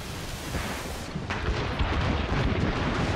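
Ship cannons boom in a naval battle off Labrador, a dense, rumbling barrage that grows louder about a second in and keeps pounding without a break.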